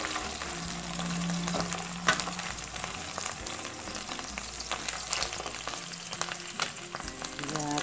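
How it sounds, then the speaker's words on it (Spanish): Pieces of pork fry in oil in a pot, giving a dense, continuous close sizzle and spatter with occasional clinks, steady throughout and without talk. "Empezamos con esta fácil receta en una cacerola con aceite. Freímos la carne."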